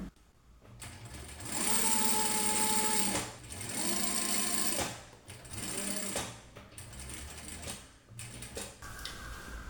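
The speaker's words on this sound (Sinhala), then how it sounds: "එතකොට අපි හරියට මේ කට් මාක් එක දාපු තැන හරි මැදට තියලා අපිට මැෂින් කරගෙන යන්න තියෙන්නේ." A sewing machine stitches around a patchwork bag made from scrap fabric, running in several loud bursts with short pauses between them, close and without voices.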